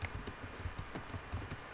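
A password is typed on a computer keyboard as a quick, irregular run of close, crisp key taps over about two seconds.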